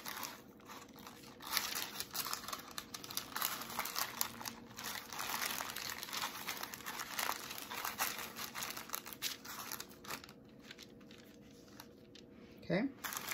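Paper crinkles and rustles steadily while potato candy dough is rolled out on a table, the busy crackling continuing for several seconds and easing briefly near the end.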